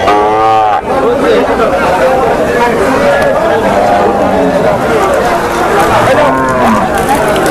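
Loud lowing from small, bony cattle at the start and again near the end, amid constant crowd chatter and voices of a bustling cattle market at Aricha.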